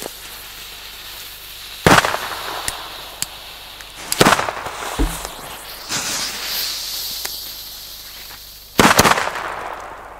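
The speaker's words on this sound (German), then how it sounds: "Die braunen Böller." Several sharp firecracker bangs burst out a few seconds apart on New Year's Eve, each a loud crack with a brief crackle, separated by hissing and quieter background noise.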